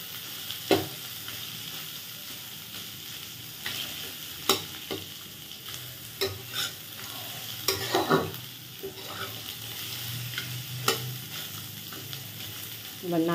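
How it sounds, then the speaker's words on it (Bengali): Grated coconut and nuts frying in a pan for a vegetarian khichuri, a low steady sizzle broken by sharp scrapes and clicks of stirring spaced irregularly, close and alone without talk. "নারকেল বাদামটা একটু ভাজা হয়ে নিক"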